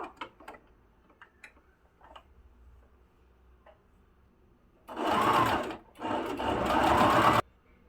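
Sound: sewing machine stitching a folded fabric bag

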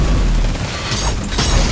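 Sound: explosion in the video game Destiny 2

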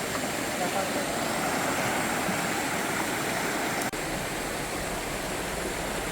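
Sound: river water flowing

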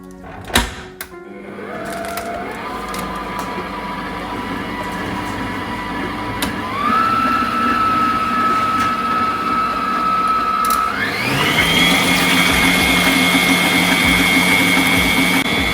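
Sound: mixer whipping cake batter, slow then fast speed

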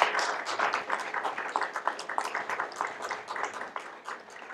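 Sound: applause from audience

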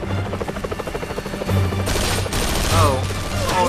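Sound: gunfire at helicopter in a video game

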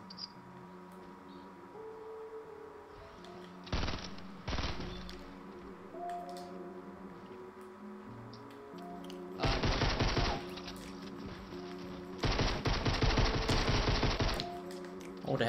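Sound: gunfire in Fortnite Battle Royale video game

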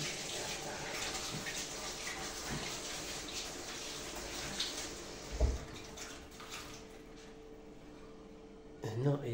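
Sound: washing hands under running tap water

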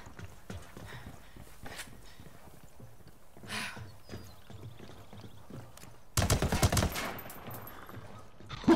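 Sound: gunfire in video game Ghost Recon Wildlands

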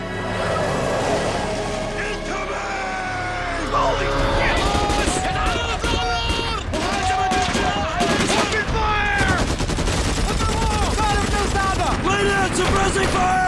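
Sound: gunfire in a war drama

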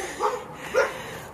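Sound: puppy barking

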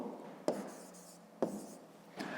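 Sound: writing a math solution by hand

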